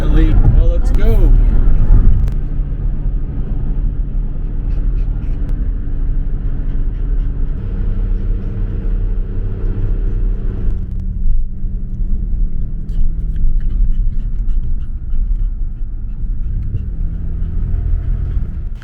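A minivan drives toward a campsite at Devils Lake State Park on a cold day, its engine and road noise a loud, steady rumble from inside the cabin, with people talking over it.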